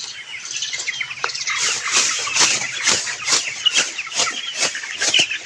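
Chickens in a poultry shed flap their wings in repeated rustling bursts, mixed with soft clucks, close and moderately loud, with no talking.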